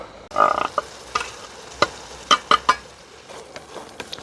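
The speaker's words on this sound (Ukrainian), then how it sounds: "Перемішую дерев'яною спатулою, тому що це надобаний алюміній." A homemade wooden spatula stirs pasta in an aluminium Trangia pot, producing a series of soft scrapes and knocks with quiet gaps between them.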